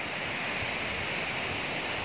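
Gundala waterfall near Dandepelli in Mancherial district, Telangana, gives a steady, dense roar of rushing water, even and unbroken, with no voices.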